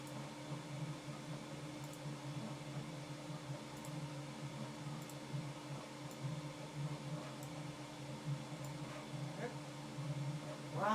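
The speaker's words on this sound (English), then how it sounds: "There goes the fan on the printer again." A printer's cooling fan runs as a steady, low, continuous hum and whir, faint and unchanging throughout, with no talk over it.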